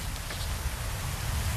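Steady rain patters over a spot called Relto in the Myst/Uru video game, a dense, even hiss with a low rumble beneath, constant and close, with no voices.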